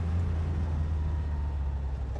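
A steady, deep engine rumble from an MGA Twin Cam race car idles continuously, loud and close, with heavy low-end throb and no voices.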